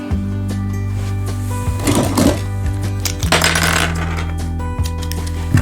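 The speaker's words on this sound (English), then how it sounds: "I'm going to cut a piece off." Scissors cut a length of embroidery floss for sewing onto a file folder project, giving a couple of brief, crisp snips over a steady low electrical hum.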